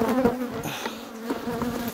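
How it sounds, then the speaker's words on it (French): Honey bees hum loudly and close at a hive fitted with a grille that lets workers out but holds back the drones, a dense steady buzz with a strong low tone and shifting wingbeat pitch. "les abeilles peuvent sortir, pas les mâles"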